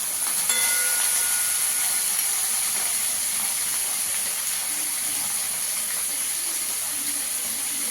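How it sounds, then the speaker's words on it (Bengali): Bottle gourd greens fry in a pan with a steady, bright sizzling hiss that holds evenly throughout, close and moderately loud, with no talking. "একটু চাপা দিয়ে একটু ভালো করে ভেজে নেব।"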